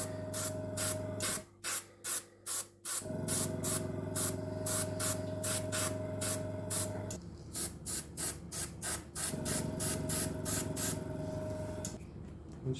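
A spray can lays a light adhesive coat onto a model of HMS Queen Elizabeth, heard as a run of sharp, close hissing bursts, several short puffs followed by longer steady sprays with no talking.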